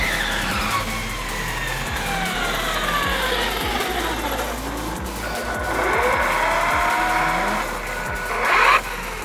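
An ARRMA Limitless V2 GT RC car on 4S4P dual LiPo batteries drives past: a high electric motor whine sweeping up and down as it accelerates and passes, with tire noise, steady and fairly loud throughout.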